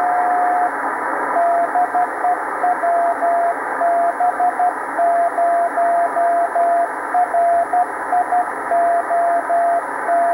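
A 10 meter amateur radio beacon keys out a string of short on-off tone pulses over steady receiver hiss, the beeps sounding in irregular Morse-like groups, clear and fairly loud.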